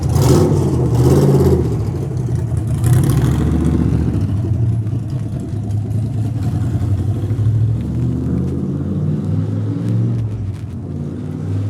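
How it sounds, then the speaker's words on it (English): A loud car engine heard outdoors, a deep rumbling growl with a rise in revs near the start, then a steady heavy drone that lingers close by for the whole stretch. "I don't feel like there's this loud automobile thing."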